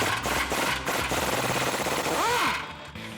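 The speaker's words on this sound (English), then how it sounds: "Get these nuts off with the impact" An impact wrench rattles loose the exhaust nuts on a Mustang cat-back system, a sustained loud hammering burr near the mic that runs for about two and a half seconds before cutting off.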